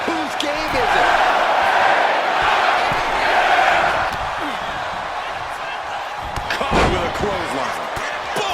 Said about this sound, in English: Clothesline. Boom, what a punch.